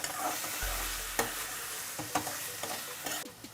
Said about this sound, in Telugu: అరటికాయ వేస్తున్నాక బాగా కలుపుతామండి.